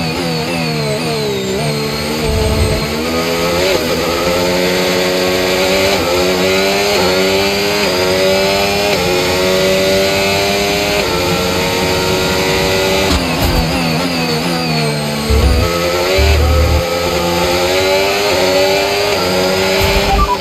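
A Formula 1 car engine in the F1 25 racing game, pushing on overtake power at Montreal, screams loudly through repeated rising revs and gear shifts, with brief low thumps in between.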